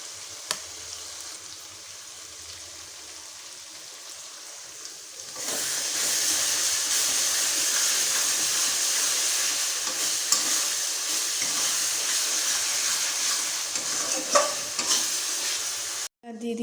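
Garlic paste goes into a pan of frying onion paste for a chicken curry. After a quiet start it erupts into a loud, steady sizzle with stirring that lasts for several seconds, then stops abruptly.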